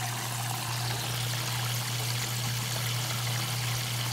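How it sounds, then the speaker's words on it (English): Water drains out of a Maytag washing machine on washday in a steady, continuous rush like a pouring stream, with a constant low hum running under it and no speech. "You see that all that water comes out there?"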